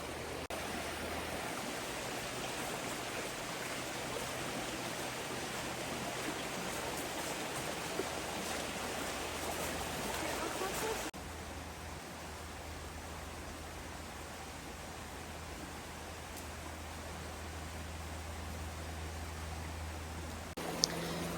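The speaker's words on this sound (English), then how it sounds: "sweet creek making some really nice ambiance for our sunbathing snow leopards up here" A creek flows beside the snow leopard enclosure at the Alaska Zoo in autumn, giving a steady, broad rushing wash of water that stays even and continuous throughout with no voices.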